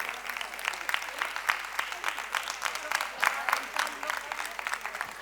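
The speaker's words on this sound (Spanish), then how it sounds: "Un aplauso a Juan" Audience at a talk clapping for an honoured guest, a moderate steady patter of many hands with a few louder claps, alongside a faint voice in the room.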